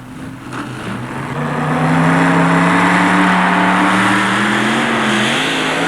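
A 1989 Dodge 4WD pulling truck at an indoor truck-pull event in the Superdome, its engine climbing to a loud, sustained roar that holds steady, close and dominant with no voices.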